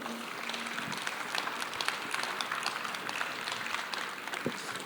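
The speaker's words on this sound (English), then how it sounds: "give a big round of applause to Peter, Hart, Yoav," A conference audience applauds the panelists of an interop protocols panel, steady dense clapping filling the room for several seconds with no voices over it.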